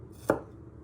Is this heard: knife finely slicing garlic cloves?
yes